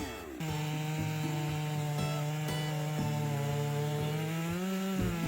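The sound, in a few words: chainsaw cutting logs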